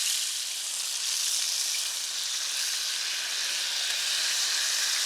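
Quail sizzling in a hot pan, a steady, bright frying hiss that runs unbroken and close, with no talk over it.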